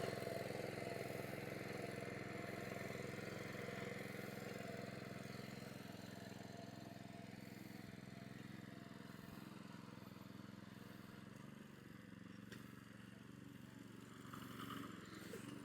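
A WB Agro Japanese power weeder runs steadily through a potato field, its small engine droning continuously at close range and easing slightly toward the end, with no talk over it.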